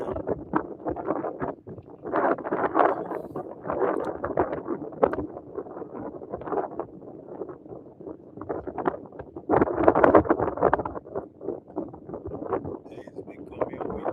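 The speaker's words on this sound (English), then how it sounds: "It's becoming too windy." Wind buffets the microphone in rough, gusty bursts, producing loud low rumbling thumps that swell and fade throughout.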